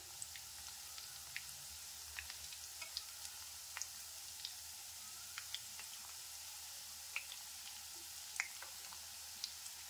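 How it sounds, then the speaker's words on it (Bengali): Egg lollipops fry in hot oil in a steady, fine sizzle, with small scattered pops and light scrapes as a spatula turns them, no one talking. "এবারে পাল্টে দিচ্ছি আমি খুন্তির সাহায্যে।"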